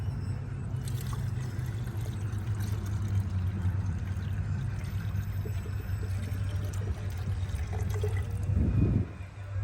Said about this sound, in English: I started pouring down a little bit more